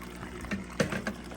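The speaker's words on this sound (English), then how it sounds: "as long as we can see the water coming out this way" Water from an aquarium filter flows into a fry tank, a steady close trickle and splash with small gurgling bursts riding over the continuous running water, faint overall and with no talking.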